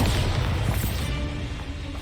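A Bombarda spell explosion in the video game Hogwarts Legacy, a continuous loud booming blast with rumbling debris across two seconds, close and dense, with no speech.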